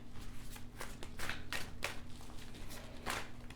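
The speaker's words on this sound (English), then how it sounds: "so we're gonna just shuffle and I'll find a spot" Tarot cards being shuffled by hand: soft, irregular riffling and flicking bursts repeat quietly over a low steady hum, with no speech.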